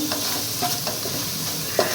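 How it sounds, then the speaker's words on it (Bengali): Spice masala with chilli powder is stirred and fried in a pan, giving a steady sizzle broken by soft rhythmic scrapes of the spoon and a small clink at the end. "মশলাটাকে একটু ভালো করে নাড়াচাড়া করে ভাজা ভাজা করে নেব"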